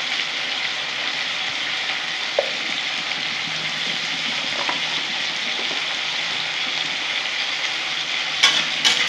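Potatoes and pointed gourd fry in a pan with salt and turmeric, giving a steady close sizzle with a few soft stirring clicks and a brief clatter near the end; no one speaks.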